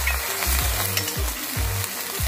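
Salt, cumin paste and ginger paste frying in a pan for Bengali muri ghonto, a dense close sizzle broken by regular scraping strokes as the paste is stirred.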